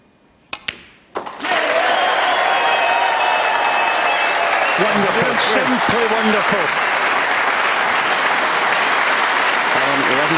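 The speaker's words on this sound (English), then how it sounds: "Wait for the applause then." A championship audience applauds a century break, with a few sharp clicks first and then sustained, loud, dense clapping. A commentator speaks briefly over it.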